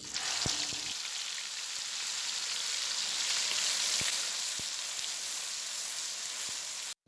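Steady, dense sizzling of ground spice paste frying in hot oil with cardamom, continuous throughout with a few faint clinks, then cutting off abruptly at the end.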